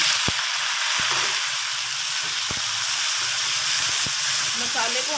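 Tomatoes and green chili paste fry with garlic and ginger in a pan, a steady close sizzle running throughout with a few sharp clicks of stirring.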